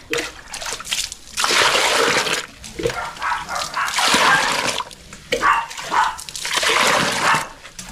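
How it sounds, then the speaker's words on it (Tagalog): Water splashes and sloshes into a container to soak used tools at a house undergoing waterproofing work, coming in several uneven bursts with trickling between them, fairly close and loud. "Lagyan natin ng tubig."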